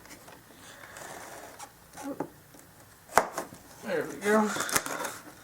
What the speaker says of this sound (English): Let's cut it from the top here.